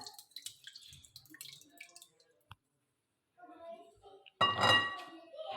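Yogurt goes into a big bowl while chicken mandi marinade is being prepared: faint scattered drips and clinks first, then a short, louder wet plop and squish near the end.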